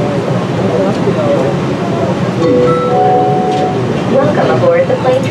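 Atlanta Airport Plane Train under way, a loud steady rumble with rising electric whines and faint clinks as the rail car moves, with a voice and chatter mixed in.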